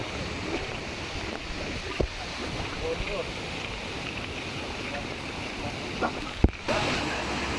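Kawasan Falls in Cebu pours as a steady broadband rush of falling water mixed with wind on the microphone, with a couple of faint knocks breaking through.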